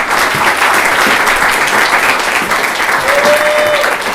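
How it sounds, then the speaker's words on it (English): Improv theater audience breaks into a dense, steady round of applause after a one-minute scene, loud and continuous throughout with many hands clapping together. "Good round of applause for that."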